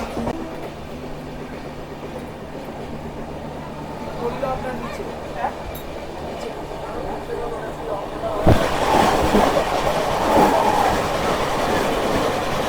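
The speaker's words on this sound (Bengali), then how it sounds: "ট্রেন নাম্বার 12884 রূপসী বাংলা এক্সপ্রেসের সাথে, যেটা আসছে পুরুলিয়া থেকে হাওড়া।" Train 12884, the Rupasi Bangla Express from Purulia to Howrah, running almost three hours late, rumbles into a busy station. Wheels clatter steadily, and a sharp surge of noise follows as it draws closer, under ongoing voices.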